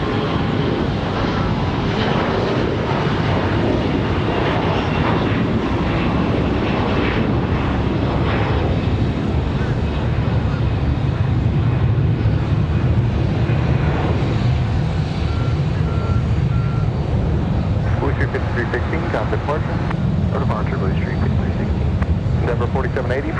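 Aircraft engines at Raleigh-Durham International Airport on a windy day, a loud continuous roar with wind noise and a faint reversing beep, while a person talks over it throughout.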